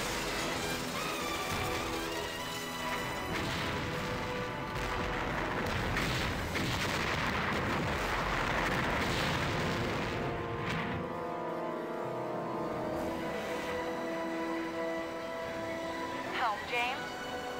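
Rapid gunfire and heavy blasts from the video game 007 Agent Under Fire, a dense, loud, continuous barrage with a game score underneath, followed by a quieter stretch and a brief rising effect near the end.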